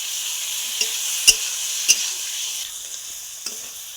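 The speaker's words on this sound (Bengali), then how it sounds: "এবার আমি ধুয়ে রাখা চিকেনটা দিয়ে দেবো, দিয়ে ভালো করে কষে নেব" Chicken stirred and sautéed in spiced oil for a curry with arum and Malabar spinach, a steady close sizzle with a few sharp scrapes and taps of the spatula against the pan.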